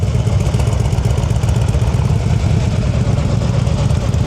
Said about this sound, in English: Your whole engine is shaking, so you're almost stalling.